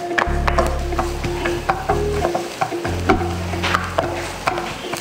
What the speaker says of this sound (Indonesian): kita akan panaskan wajan, lalu kasih sedikit minyak, bawang bombay masuk,